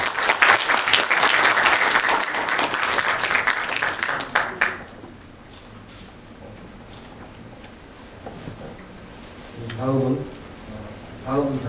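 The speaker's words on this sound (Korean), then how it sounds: "박수로 축하해 주십니다." An audience at a Korean hanok architecture award ceremony applauds loudly for a few seconds, then the clapping fades out and a voice begins speaking.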